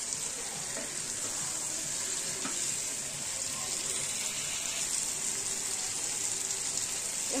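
Chicken dopiaza sizzles steadily in a pan, a dense, continuous hiss and crackle with occasional soft stirring scrapes and no voices.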